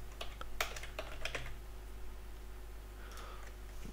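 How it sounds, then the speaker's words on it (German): Rapid clicking of a computer keyboard comes in quick bursts early on, then thins to a few scattered, close keystrokes over a steady low background hum. "Meine Güte, ich kann nicht mehr tippen."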